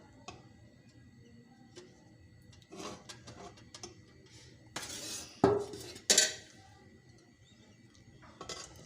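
Two spoons of oil go into a cooking pot for chicken aloo shorba, heard as scattered light metallic clinks and taps of a spoon against the pot, with a couple of louder scraping clatters, close and quiet between.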